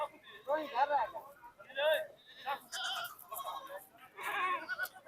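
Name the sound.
goat bleating at a livestock market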